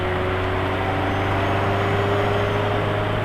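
A Fiat Elba running on engine braking with its fuel injectors cut off, a steady loud engine drone and hum with a constant low tone, heard from inside the car.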